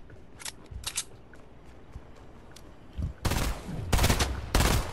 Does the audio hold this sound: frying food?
no